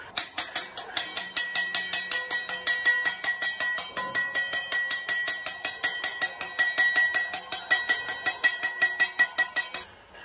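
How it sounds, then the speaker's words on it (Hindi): Rapid, rhythmic metallic clanging rings out continuously as metal plates and utensils are struck together over and over in a residential sector of Chandigarh, India, bright and jangly, ending abruptly. "आप सुन सकते हैं दूर कहीं से कोई बर्तन खटकाती हुई आवाजें आ रही हैं"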